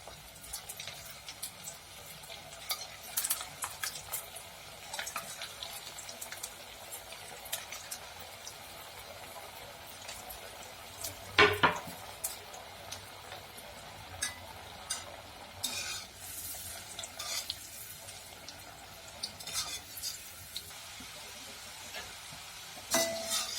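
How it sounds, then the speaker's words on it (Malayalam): A poha snack fries in hot oil with a faint, continuous crackling sizzle, broken by occasional stirring scrapes and light clinks of a utensil against the pan. "ഇനിയിപ്പോൾ നമുക്ക് എണ്ണയിൽ വറുത്തെടുക്കാം. ഇപ്പോൾ എണ്ണ നന്നായിട്ട് ചൂടായിട്ടുണ്ട്."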